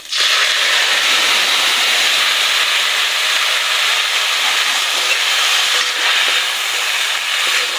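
Lentils hit a hot pan already holding fried ingredients for a drumstick-leaf and masoor dal dish, setting off a loud, steady broadband sizzle that holds unbroken close up throughout.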